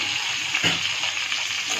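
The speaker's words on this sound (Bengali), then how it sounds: "লাল লাল করে ভেজে নেব বেগুনগুলো" Eggplant pieces seasoned with turmeric and salt fry in hot oil left from frying potatoes, giving a steady close sizzle throughout.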